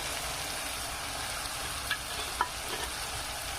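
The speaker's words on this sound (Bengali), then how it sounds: "এবার এইটা দিয়ে আমি ভালো করে এবার মশলাটা কষবো।" Spice paste of ginger, garlic and green chilli fries and is stirred in a pan, a steady hissing sizzle with a few soft scrapes of the spoon, close and without talk.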